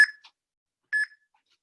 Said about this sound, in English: Timer is starting in 9 seconds.